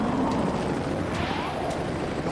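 A cartoon helicopter flies along in a steady, dense whirring rumble that stays fairly loud and constant throughout, with faint brief sounds layered over it.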